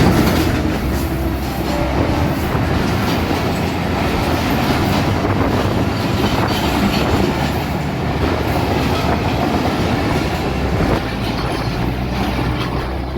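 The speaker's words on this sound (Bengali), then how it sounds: "টুঙ্গিপাড়া এক্সপ্রেস আজিমনগর রেলওয়ে স্টেশনের 2 নম্বর লাইন দিয়ে থ্রু পাস করে চলে যাচ্ছে রাজশাহী অভিমুখে" The Rajshahi-bound Tungipara Express, hauled by a 64-series locomotive, thunders through Azimnagar railway station on line 2. A loud, steady rumble and clickety-clack of wheels runs without a break, with wind buffeting the microphone.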